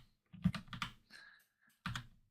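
Computer keyboard keys pressed in a few short clustered bursts while replying to an email in Gmail, close and fairly quiet, with no talking.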